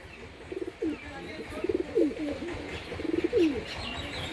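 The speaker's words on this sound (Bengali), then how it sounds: "দেখুন কিরম ডাক করছে পুরো গরম পায়রা" Desi giribaz pigeons cooing in a pen in Murshidabad, repeated throaty rolling coos in short bursts close by over faint background noise.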